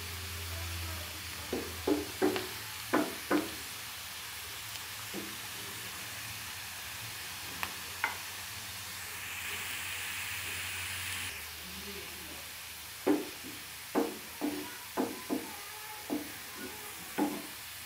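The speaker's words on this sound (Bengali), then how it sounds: "দেখতে পাচ্ছেন পেঁয়াজটা ভাজা হচ্ছে" Onions frying to brown in a pan over a raised flame, a faint steady sizzle with scattered sharp clinks of stirring, grouped at the start and the end.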